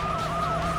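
Police siren in the Need for Speed: Hot Pursuit 2 racing game, a wailing tone sweeping up and down repeatedly over steady car engine noise, fairly faint and continuous.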